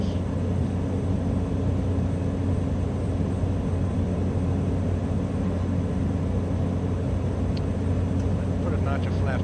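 Small airplane in flight over Puerto Rico, a steady loud droning engine hum filling the cabin throughout, with brief radio or voice sounds near the end.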